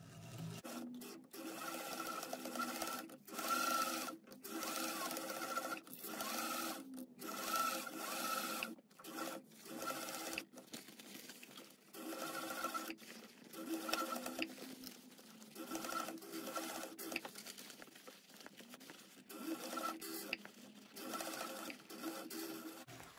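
A sewing machine top stitches a fabric bag along its seam in a steady close whir, with a few brief stops and restarts.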